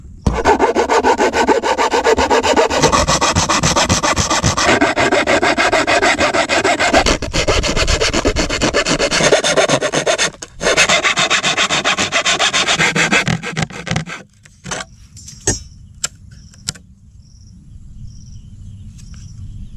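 A hand saw cuts through a piece of wood for a homemade boomerang in steady, close, rasping back-and-forth strokes for about fourteen seconds, then stops; a few clicks and faint insect chirping follow.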